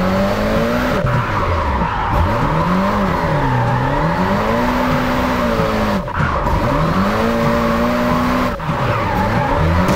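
A Nissan Micra drifting on ice in the Japanese Drift Master video game, its engine revving and wailing up and down continuously with tire squeal, loud and close with no speech over it.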